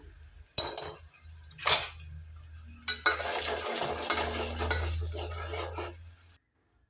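Food frying in a pan until light golden brown for a mutton curry sizzles under repeated spatula scrapes and metallic clinks against the pan, then cuts off abruptly into silence.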